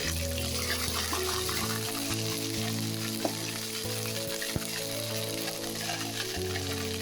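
Ginger garlic paste sizzling in hot oil after panch phoron spices, a loud continuous crackling sizzle close up, with a low steady hum underneath and a couple of faint clinks.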